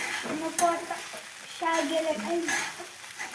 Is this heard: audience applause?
no